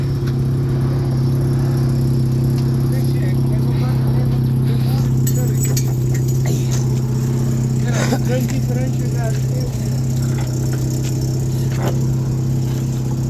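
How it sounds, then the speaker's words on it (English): Supercharged Ford Mustang engine idling steadily with a strong low rumble, close by, while people talk excitedly over it. "That sounds sick. Oh man. That's badass, guys, huh? Holy shit. Look at the Mustang."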